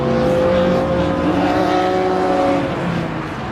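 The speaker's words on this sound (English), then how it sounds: "There goes Janecki there in that beautiful Nissan Skyline." A Nissan Skyline race car engine roars loudly and steadily as it drives past close by at Brands Hatch circuit, its pitch shifting slightly as it goes.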